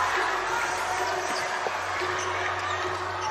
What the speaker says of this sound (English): The crowd is definitely feeling it now.